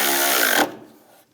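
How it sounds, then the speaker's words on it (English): A power tool tightens bolts on a Chevrolet Trailblazer throttle body: one short, close whirring burst that cuts off abruptly, leaving a faint fading tail. "Tighten those down."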